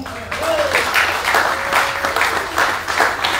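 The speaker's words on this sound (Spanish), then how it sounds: "yo quiero que le den un aplauso a Yamil Joglar" Dense applause from a crowd, sustained and fairly loud throughout, with faint voices mixed in.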